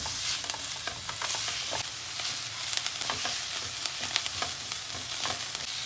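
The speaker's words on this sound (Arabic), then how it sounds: "اضيف البصل ويا الثوم، نحمس البصل بالزبدة." Onion and garlic sautéing in butter with a little olive oil, a dense, close sizzle with frequent small crackles and light stirring taps, steady throughout with no voices.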